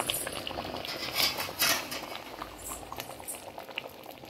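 Sambar bubbling in a pot, a steady close bubbling and popping with light patter throughout, moderately loud and alone with no voices.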